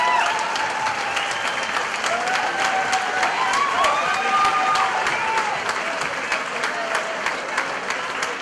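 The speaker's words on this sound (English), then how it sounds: "make some more noise for these 2 warriors" A boxing crowd at a club venue applauds and cheers steadily after a fight, a dense continuous wash of clapping with whistles and shouts throughout.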